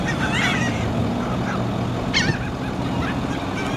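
Seagulls call at Biloxi Beach in Mississippi, with several squawking cries scattered over steady loud background rumble from wind and surf or traffic.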